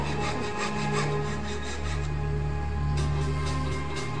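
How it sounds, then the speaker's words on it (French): Wood carving on a puppet, a steady close rasping and rubbing of a tool against wood that runs continuously with slight rhythmic pulses, alone without talk. "Un jour, il se mit à sculpter amoureusement un pantin en chantant joyeusement."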